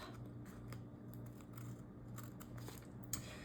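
Scissors trim paper for a Hobonichi Cousin planner page, giving a quiet series of short, crisp snips over a faint, steady background hum.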